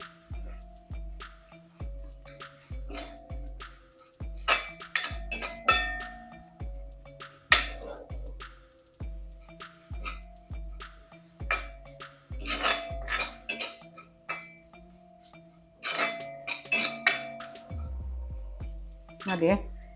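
Spoon stirs coriander powder and Kashmiri chili powder into a pan for a green gram dish, making repeated metallic clinks and scrapes against the pan, some in quick bursts with short pauses between.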